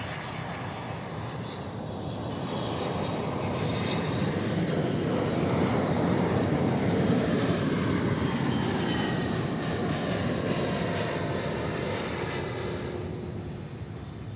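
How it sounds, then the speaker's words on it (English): A Japan Airlines international jet arriving at DFW airport, its engine roar swelling steadily from a distance, peaking loud midway, then easing off as it passes, with no talk over it. "what we're waiting for is the Japan Airlines flight, and it's just about here"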